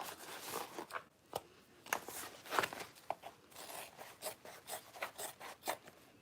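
Scissors snipping along a sewn seam of a fabric tote to trim away excess cloth, giving a steady series of crisp, close cuts and rasps with no talking.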